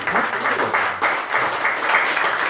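A church congregation claps to celebrate baptisms, a brief burst of many hands ringing out fairly loud and even for a couple of seconds, with no voices over it.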